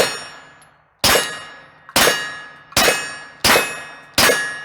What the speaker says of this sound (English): I'm gonna shoot off the plate here.